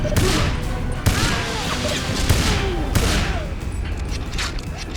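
Sustained gunfire and explosions in the finale of the James Bond 007: Everything or Nothing video game, with dense continuous shooting, booming impacts and a loud, chaotic battle texture throughout.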